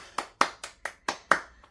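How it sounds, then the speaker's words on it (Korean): Six or seven close hand claps land in a quick, even rhythm, each sharp and bright with a short decay, in an otherwise quiet room. "박수"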